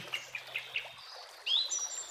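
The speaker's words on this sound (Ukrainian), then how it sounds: "веселе цвірінчання птахів" Small birds chirp in short repeated notes, followed by a couple of brighter rising whistles, fairly faint against a quiet background.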